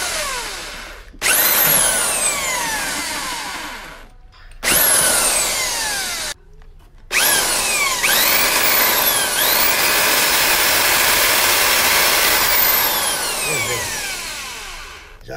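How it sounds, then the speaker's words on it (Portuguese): A handheld electric drill bores a hole for a bolt while a bearing mount is modified at home. The drill runs loud and close in several long bursts, with brief stops between them and a shifting whine as the bit bites. "Vou pegar uma furadeira e fazer um furo bem aqui,"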